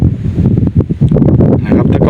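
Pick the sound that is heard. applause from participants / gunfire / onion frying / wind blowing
wind blowing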